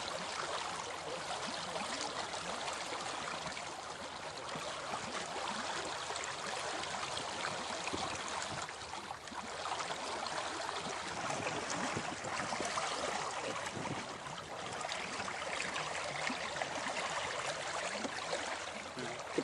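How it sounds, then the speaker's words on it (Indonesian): Liquid pesticide is mixed into water for spraying chili plants, giving a steady, continuous trickling and sloshing of water that runs loud and close for the whole stretch, with no voices. "sebelumnya dikocok terlebih dahulu agar lebih merata, kemudian baru dicampurkan"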